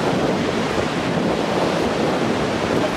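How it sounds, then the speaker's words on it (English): Strong wind buffets the microphone over a steady roar of ocean surf on an Oregon coast beach, loud and continuous with no talk. "It's very windy, so you might not be able to hear a thing that I'm saying"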